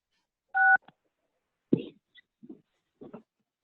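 Two-tone telephone keypad beeps as *6 is pressed on a webinar phone line, a sustained dual tone followed by a short blip, then faint scattered noises in otherwise quiet surroundings.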